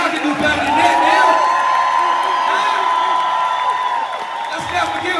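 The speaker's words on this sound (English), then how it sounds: "Give them a round of applause." A commencement audience in a large hall claps and cheers for the graduates' families, with sustained applause, whoops and shouts, and a long whistle rising above the crowd noise.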